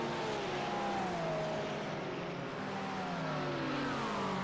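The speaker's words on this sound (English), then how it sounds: "As we see the GT3 drivers coming through here, turn 8 onto the back." GT3 race car engines at Road Atlanta roar steadily past, their pitch sliding downward as several cars go by in close succession, loud and continuous with no talking.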